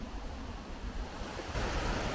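A river runs after a fair bit of rain, giving a steady broad rushing wash of water that swells slightly louder toward the end, with no voices.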